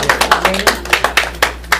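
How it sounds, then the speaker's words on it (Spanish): Congregation clapping at a church service, individual hand claps in a loose, roughly steady rhythm, near and fairly loud over a low constant hum. "usted mismo dése un aplauso"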